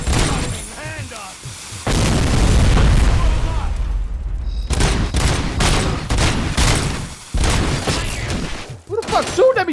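Gunfire and booming blasts from the video game Robocop: Rogue City ring out in heavy bursts, close and loud, while voices shout over the shooting.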